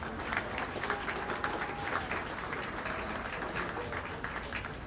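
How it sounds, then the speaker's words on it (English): Steady crowd applause at a county fair beef cattle show, dense clapping sustained throughout at an even level with faint voices mixed in. "Let's give these exhibitors a round of applause."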